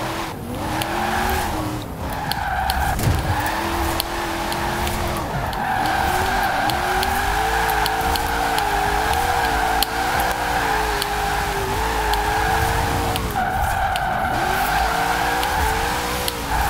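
A BMW E60 drifts on snow in the racing game Forza Horizon 4, its engine droning steadily with wavering revs and a continuous tire squeal running loud and close for the whole stretch.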